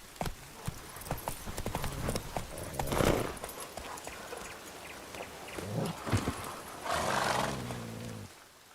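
Hooves of the horse Roach clip-clopping in the video game The Witcher 3: Wild Hunt, a quick rhythmic series of hoof beats up close, mixed with snorting and a whinny-like burst.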